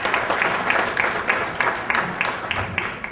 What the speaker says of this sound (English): you deserve a big clap now